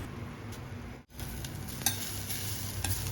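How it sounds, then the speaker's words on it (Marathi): Semolina and freshly grated wet coconut being roasted in a pan for rava coconut laddoos, a soft continuous sizzle with scraping stir strokes and light spoon taps, close and steady with no talking. "आता हा ओला नारळ सुद्धा रव्यामध्ये सहा ते सात मिनिटं भाजून घ्यायचं"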